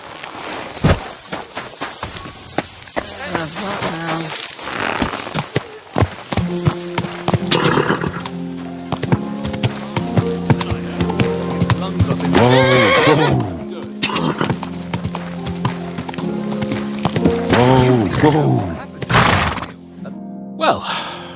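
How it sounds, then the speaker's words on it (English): A horse in the video game Kingdom Come: Deliverance II neighs loudly several times while its hooves clop and thud beneath the calls, close and prominent throughout, with a voice speaking at points. "Easy, good horse."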